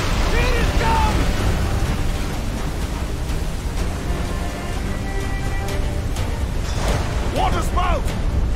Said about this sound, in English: Water spout!